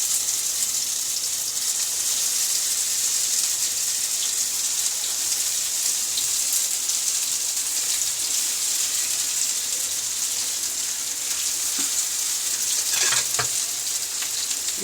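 Minced meat kebabs fry in hot oil in a pan, a steady, loud, continuous sizzle and crackle running throughout, with no voices.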